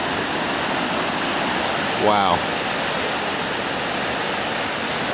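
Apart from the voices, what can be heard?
floodwater rushing under Hartford Village bridge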